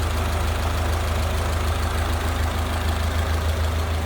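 A 1931 Ford Model A Tudor sedan engine idles smoothly and steadily up close, a continuous low, even rumble with a fast regular pulse and no voices over it.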